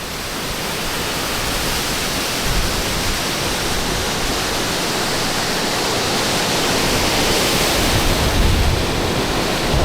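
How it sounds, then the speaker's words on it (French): Strong, steady rush of flowing water, like a river, beside Montreal's Olympic Stadium: a dense, continuous roar that holds level for the whole stretch with no voices. "Un bon débit quand même, j'ai presque l'impression d'être à côté d'une bonne rivière."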